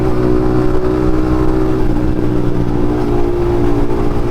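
A Yamaha MT-15 motorcycle with an Akrapovic exhaust drones steadily at close range, a loud, continuous engine tone held without pause.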